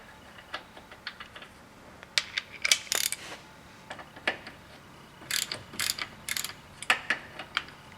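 A ratchet with an 18 mm socket working a plug on the transfer case of a Silverado 2500HD, with irregular bursts of fast clicking and short pauses between them, close and clear.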